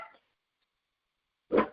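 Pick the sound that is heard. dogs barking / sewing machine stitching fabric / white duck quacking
dogs barking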